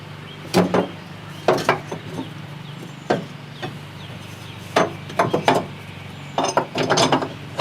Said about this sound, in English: bolt these down. Bolt these down.